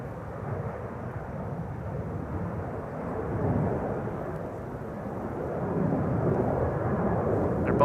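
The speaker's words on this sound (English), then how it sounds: "Air Baltic to Vilnius is taxiing to the runway threshold." Air Baltic airliner taxiing toward the runway threshold at Schiphol's Polderbaan, a steady low engine rumble that swells slightly midway and toward the end, with no talk.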